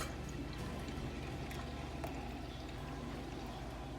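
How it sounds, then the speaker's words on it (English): Unsweetened original almond milk is poured into a keto iced mocha latte with heavy whipping cream, a faint, steady liquid pour heard close and quiet. "And then I'm gonna add some unsweetened original almond milk."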